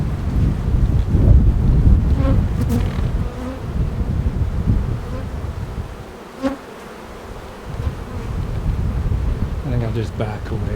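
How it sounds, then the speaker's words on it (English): Honey bees buzz close and continuously near water, mixed with wind rumbling on the microphone and a few faint voices in the background. "We got bees, honey bees."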